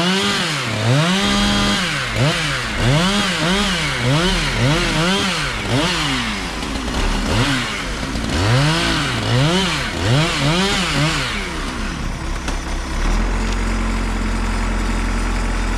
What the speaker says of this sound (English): after somebody fixes their chainsaw, because he decided to throw the chain off in it